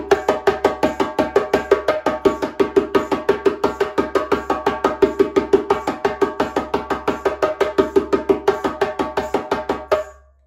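Hand drum playing a steady, evenly spaced run of sharp strokes, the first few rounder open tones and the rest crisp slaps, continuing for about ten seconds before stopping abruptly, with no voices.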